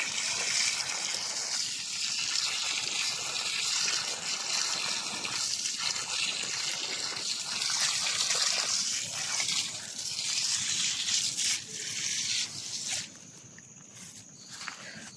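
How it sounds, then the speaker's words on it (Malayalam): Water gushes onto the soil of a cassava field in a steady, broad rushing hiss, close and continuous, easing slightly toward the end. "വെള്ളം അടിച്ച് കൊടുത്തു കഴിഞ്ഞാൽ"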